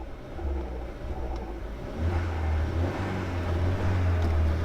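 Car engine fitted with an induction kit held at low revs, a deep close rumble with a low droning note that steps up and holds, loud and steady, no talking.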